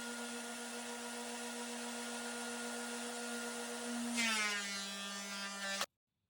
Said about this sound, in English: putting multi-directional grain patterns through a planer